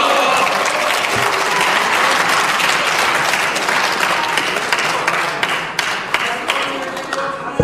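Sustained, dense applause fills a political assembly hall during a speech by a party leader, a steady loud wash of many hands clapping that gradually thins toward the end, with a few sharper individual claps standing out.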